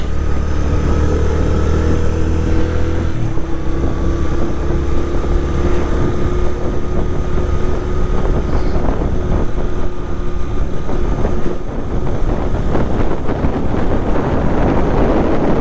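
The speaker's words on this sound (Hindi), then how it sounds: "बादल बिल्कुल जी सामने आ गए और हवा भी थोड़ी सी तेज़ हो गई है।" Strong wind buffets the microphone in a mountain valley near Naran, a loud constant roar with gusting rumble and an engine-like drone underneath.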